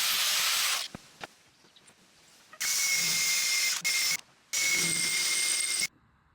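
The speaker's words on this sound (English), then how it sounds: "I just needed to trim them with the angle grinder." Angle grinder trimming metal brackets, two loud, harsh hissing grinding bursts of about a second and a half each, close by, after an earlier short burst and a few clicks, with no talk.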